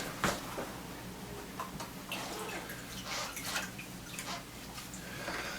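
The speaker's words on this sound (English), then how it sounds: "we're going to squeeze it out 3 times to get the water out of it" Water drips and trickles from fiberglass casting tape as it is squeezed out by hand while preparing a carpal brace cast, faint and close, in small irregular bursts with no talking.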